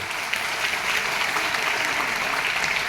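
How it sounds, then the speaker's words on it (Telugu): An audience bursts into sustained, dense applause, many hands clapping loudly and evenly for several seconds with no pauses. "మీ అందరికి ఒకసారి జోరుగా క్లాప్స్ అండి."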